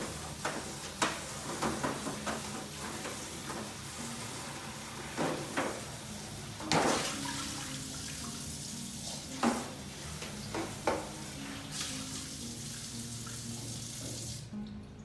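A pan rinsed under a running kitchen tap: a steady close stream of water with splashes and intermittent clanks as the pan is moved about, no talking.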